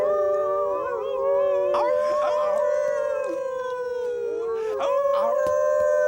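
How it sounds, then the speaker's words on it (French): Wolves howling together in a family pack, several long sustained howls overlapping and rising and falling in pitch, loud and close throughout, with no talking. "Ils hurlent pour communiquer entre eux."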